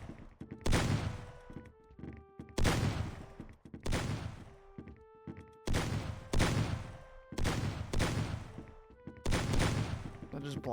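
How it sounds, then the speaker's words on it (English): Gunfire in a shooting video game: bursts of sharp shots in several separate volleys with short pauses, loud and close, with game music tones ringing between them. "They're just blind shooting."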